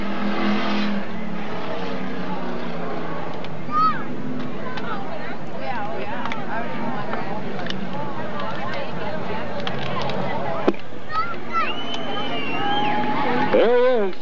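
A dirt track race car on a victory lap at Magic City Speedway in Billings, Montana: a continuous loud engine roar with shifting pitch that rises and falls as it circles, with voices and crowd noise mixed in.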